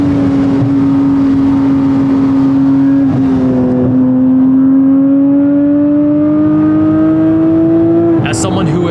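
A Porsche Cayman GT4 RS engine revs loudly and close on a race track, its pitch climbing, dipping briefly at a short shift into fourth gear, then rising steadily again, with a sharp sound near the end.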